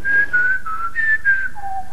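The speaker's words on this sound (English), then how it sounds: "As he whistles some moronic tune." Someone whistles a simple tune in clear, sustained notes, a handful of steady pitches in sequence ending on a lower one, loud and close with no talk.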